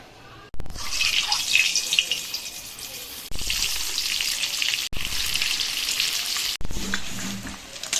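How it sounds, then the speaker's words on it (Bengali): Eggs sizzle steadily as they fry in oil seasoned with a little turmeric and salt, a loud close crackle broken by short gaps where the pan is stirred or moved. "এই তেলের মধ্যে ডিমগুলো ভেজে নেব"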